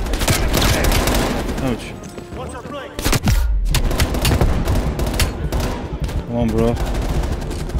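Gunfire in Call of Duty Black Ops Cold War on a realism campaign mission, loud bursts of automatic and single shots with booming impacts and a sharp pause near the middle, with someone talking briefly over it.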